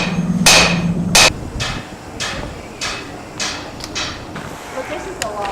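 A hammer strikes metal in 18th-century-style smithing at Williamsburg, a run of sharp, ringing blows at uneven intervals, loud and close, with a voice talking underneath.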